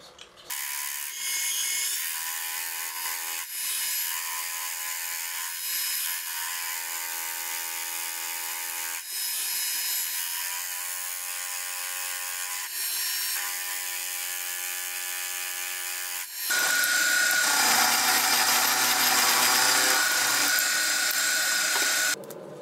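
A milling machine cuts a steel angle block from scrap metal. A steady tonal mechanical whine with faint rhythmic ticks runs throughout, then turns into a louder, harsher cutting noise near the end.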